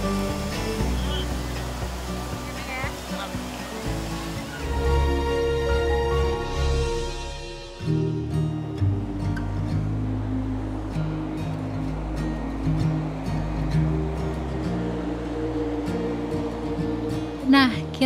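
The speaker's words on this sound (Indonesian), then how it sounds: "suara gemericik aliran Sungai Pesangan" The Pesangan River flows in a steady, babbling rush at a morning riverside park in Takengon, Aceh, a broad continuous wash of water with a voice talking over it.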